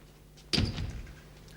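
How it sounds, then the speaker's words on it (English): A door is shut in a quiet room, giving a single dull thump with a short rattling tail and then faint room tone. "shut the door"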